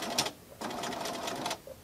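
A sewing machine stitches a tote bag, its needle chattering in two short bursts separated by a brief pause, fairly close and with no talking over it.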